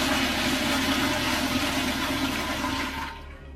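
A prison cell toilet flushes with rusty brown water: a loud, close rushing gurgle that holds steady, then drains away and fades to quiet within a few seconds.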